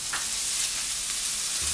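Chopped green, yellow and red peppers sizzle in a hot pan as they are stirred, a steady close crackle with faint scraping.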